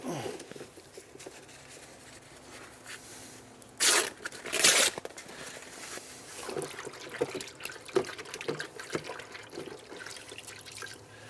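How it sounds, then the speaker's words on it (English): Water dribbled onto a hand-cut wooden half-lap dovetail drawer joint, with two brief louder splashing bursts amid quiet trickles, drips and small workshop handling noises. "Let's get a bit of water onto that."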